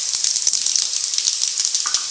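Mustard seeds, urad dal, fennel and chana dal fry in hot oil with a steady, loud, close hiss, broken by rapid crackles and small pops throughout.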